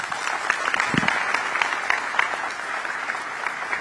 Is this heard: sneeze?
no